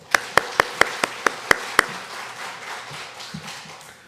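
A church congregation at a Sunday morning service claps in unison, about eight sharp, evenly spaced claps in quick rhythm, then a quiet room murmur.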